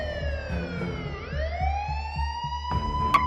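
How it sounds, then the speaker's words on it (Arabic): A police siren wails, its pitch dipping and then rising again, over a low rumble of traffic. It sounds fairly close and steady in loudness. "فجأة وشفت سيارات الشرطة جاية من"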